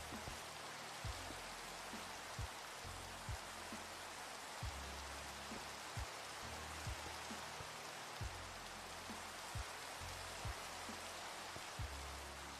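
Steady rain in the Minecraft-based game FNACraft, a constant hiss of falling water with soft, irregular low thumps scattered throughout, no voices.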